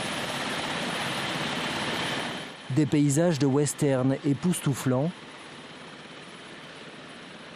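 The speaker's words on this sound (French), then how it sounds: "et enfin un hélicoptère" A military helicopter flies over the Sahel in southwest Mali, its steady broadband rotor and engine roar filling the background before and after a stretch where someone talks over it.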